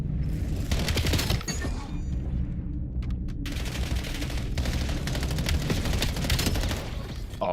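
Rapid automatic gunfire in Black Ops 7 multiplayer as players shoot through walls: loud, close bursts of rattling shots, a brief lull, then sustained firing to the end.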